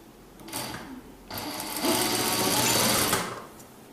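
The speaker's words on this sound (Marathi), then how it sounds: "ही इनसाइडची शिलाई अर्धा इंच मार्जिनने शिवून घेणार आहोत" A sewing machine stitches the inside seam of a baby jumpsuit with a half-inch margin, a brief burst of running then a longer steady whirring run close by before it stops.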